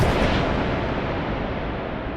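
A gun booms across open water at sea, one deep sustained rumbling roar that rolls and slowly fades, loud and alone with no voices.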